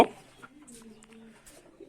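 Domestic pigeons give a soft, low cooing, faint and brief, in a quiet space with a faint voice murmuring nearby.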